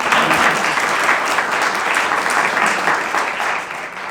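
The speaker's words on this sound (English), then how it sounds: "Let's clap for her anyway" Steady applause from a school board meeting audience honoring a ninth-grade student, dense and continuous throughout, easing slightly near the end.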